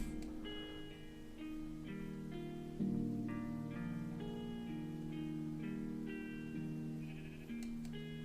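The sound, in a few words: sheep bleating in a video game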